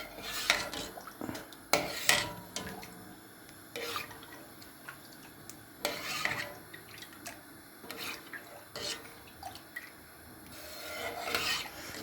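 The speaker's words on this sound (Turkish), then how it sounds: "şimdi haşlanan pirincimizi sütle güzelce karıştır" Boiled rice and milk being stirred in a pot make repeated close rasping scrapes of the spoon against the pot, coming in irregular strokes with quieter wet gaps between them.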